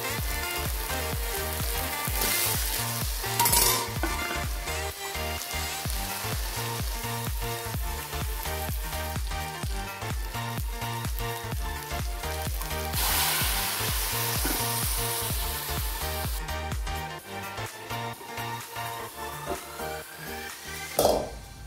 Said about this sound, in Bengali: মশলাটা ভাজা ভাজা হয়ে গেলে কাঁঠালটা দিয়ে দেবো।